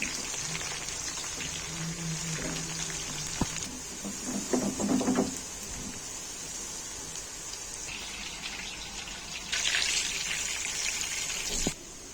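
Bitter gourds fry in a wok in a home kitchen, giving a continuous sizzle and hiss with a few clatters of utensils and brief surges of louder frying.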